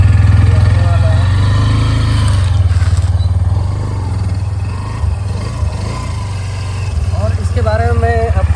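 Hero Xtreme 125R motorcycle engine running at a steady, close idle throughout, with someone talking over the rumble.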